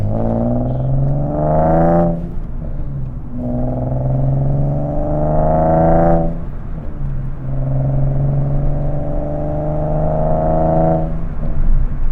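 A Nissan 370Z NISMO with a Fast Intentions exhaust revs up in three long rising pulls, each climbing in pitch before dropping off, with a deep exhaust rumble running throughout.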